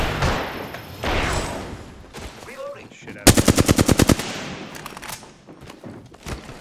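Covering gunfire in a video game: a rapid automatic burst of evenly spaced shots rings out loud and close in the middle, amid scattered battle noise and brief voices.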